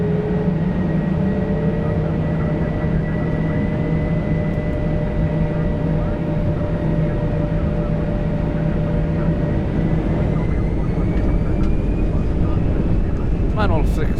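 An Airbus A320 takes off from a runway at Jeddah, heard from inside the cockpit. Steady engine and airframe roar with sustained tonal hums builds slightly toward the end, with brief cockpit voices beneath the noise.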